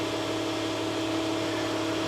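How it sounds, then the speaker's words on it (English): An air compressor hums steadily in a workshop during a tractor repair, a constant low drone with a steady tonal whine, moderately quiet and unbroken, with no talk over it. "probably hear the compressor going in the background"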